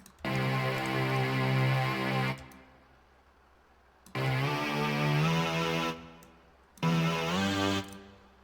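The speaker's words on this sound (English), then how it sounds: "this is how the bass sounds" A buzzy, harmonically rich synth bass plays three sustained notes with slight pitch movement, separated by short gaps of near silence.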